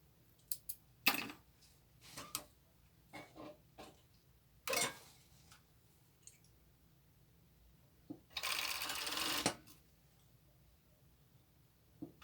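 A sewing machine sews around the neckline of a croptop in one short, loud burst of about a second, set among scattered clicks and handling taps in an otherwise quiet room.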